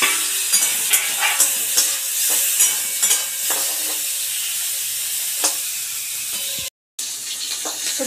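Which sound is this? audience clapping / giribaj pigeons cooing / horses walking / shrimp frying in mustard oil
shrimp frying in mustard oil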